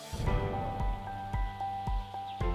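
Rain falls as a soft, steady hiss, with occasional faint drip-like taps and no voices.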